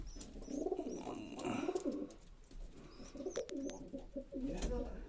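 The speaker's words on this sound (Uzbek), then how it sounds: "Qaranglar, uyni tagiga kaptarxona qilganmiz." Pigeons coo from a loft built under a house, with repeated low throaty coos in bursts and a few faint higher chirps, heard close by.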